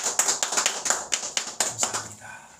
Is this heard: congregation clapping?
yes